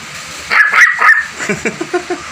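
A person imitates two dogs fighting, close up, with a drawn-out whining yelp followed by a run of short, rhythmic yips.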